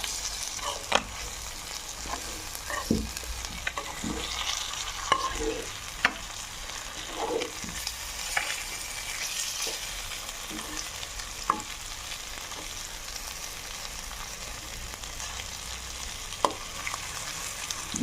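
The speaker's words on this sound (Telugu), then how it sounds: "ఇప్పుడు మళ్ళీ ఇంకొక సైడు తిప్పుకుంటూ కాల్చుకుందాం." Pieces of fish pan-frying in oil, turned over to cook the other side, give a steady close sizzle with scattered sharp clicks and scrapes as pieces are flipped and stirred, and no voices.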